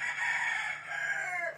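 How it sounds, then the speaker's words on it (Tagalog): Close rooster crowing, one clear drawn-out cock-a-doodle-doo call, fairly faint, alone without talk. "Mga manok ni Kuya Ado yan."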